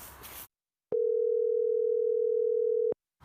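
A steady electronic telephone tone holds for about two seconds after a short burst of noise, then cuts off abruptly.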